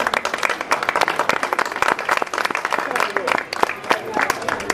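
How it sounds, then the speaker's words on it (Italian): Audience applause at an Italian cultural association event on local dialect and traditions, a dense, sustained round of clapping from a crowd that stays loud and steady throughout. "Sicuramente l'applauso è per Papa Francesco, non è tutto."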